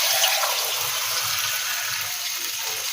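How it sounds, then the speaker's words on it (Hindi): Two glasses of water are poured into a pan of fried masala, giving a steady, close, gushing splash with a constant hiss and no voices. "ये 2 गिलास मैंने इसमें पानी डाल दिया है"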